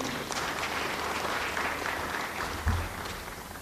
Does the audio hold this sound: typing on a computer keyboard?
no